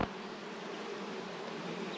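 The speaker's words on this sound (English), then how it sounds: "And you must be really careful with bees." A close, continuous hum of many honey bees buzzing together around a hive, steady and droning without talk.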